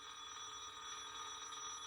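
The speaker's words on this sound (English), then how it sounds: "the old phone rings with the same bells or beeps" An old landline telephone bell rings continuously, a bright metallic trill that stays steady and fairly loud throughout.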